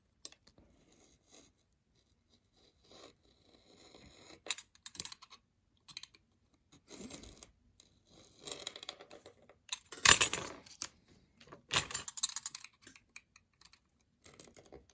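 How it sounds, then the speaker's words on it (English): A razor blade slices through paper while building a paper model of a CRJ-200 airliner, giving faint, close, sparse clicks and short scratchy strokes spread across a quiet stretch, with a few louder taps near the end. "I'm just going to use a razor blade so I can cut all the way through."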